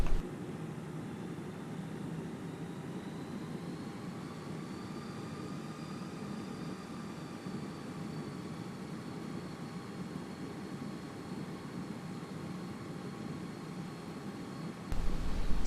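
A Fenix A320 taxiing at Kuwait in Microsoft Flight Simulator 2020, its engines giving a steady, even roar with a faint high whine slowly drifting in pitch, continuous and unbroken until a brief rise at the very end.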